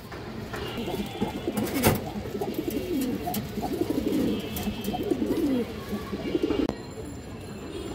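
Muslodom pigeons, a large black-laced hen among them, coo in a steady low burble throughout, with scattered chirps from other birds and a few sharp clatters nearby.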